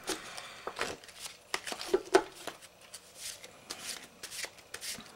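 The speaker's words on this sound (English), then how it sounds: "go ahead and shuffle your deck up" Repeated crisp riffling and flicking of playing cards being shuffled, in uneven bursts at close range, with no talking.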